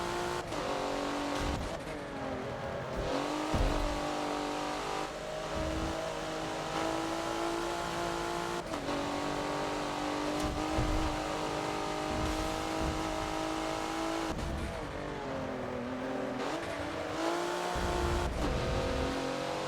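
A race car engine in the Forza racing game at Road Atlanta revs hard and continuously, climbing through gears with sharp drops at each shift and braking point, loud and close with no talking.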